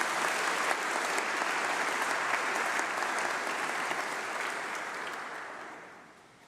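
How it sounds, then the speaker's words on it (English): An audience gives a long round of applause at a university graduation ceremony. Thick, steady clapping from a large crowd fills the hall, holding level before tapering off at the end. "I think another round of applause for Sanika Verka."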